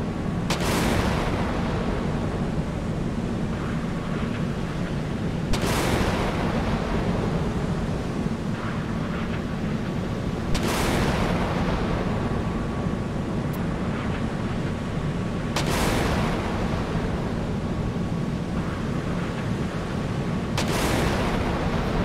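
Kidd-class destroyers launching a missile salvo in the Sea Power naval combat game, heavy booming launches repeating about every five seconds over a constant wash of wind and sea, no speech.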